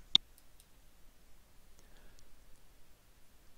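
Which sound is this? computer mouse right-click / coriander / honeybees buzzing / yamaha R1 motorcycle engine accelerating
computer mouse right-click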